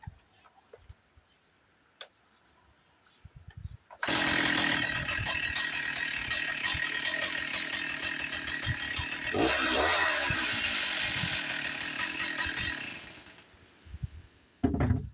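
An old 26-year-old STIHL chainsaw starts after a few quiet sounds, then runs loud and close for about nine seconds, revving up once midway before dropping back to silence.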